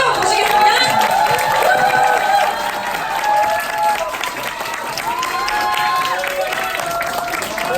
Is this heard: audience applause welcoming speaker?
yes